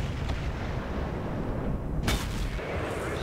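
A tank cannon fires once in an online tank battle, a sharp loud blast around the middle of the clip, aimed at the back of a KV-4 heavy tank's turret, over a steady rumble of engine and battle noise.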